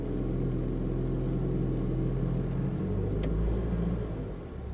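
A car engine pulls up a steep slope during a hill-start driving practice, a steady low rumble and whir that holds even, then eases slightly near the end, with no talk.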